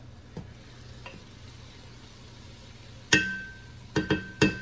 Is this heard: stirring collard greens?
yes